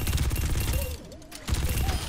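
Rapid automatic gunfire from the Overwatch 2 video game rattles in dense bursts, breaking off briefly midway before resuming at full volume.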